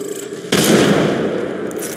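A frag grenade goes off in the video game Apex Legends, one sudden loud blast with a rumbling tail after a short quiet lead-in.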